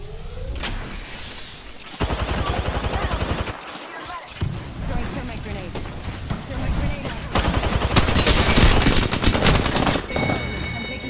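Rapid bursts of video game gunfire rattle in dense volleys through most of the stretch, with a short lull near the middle before loud automatic fire resumes.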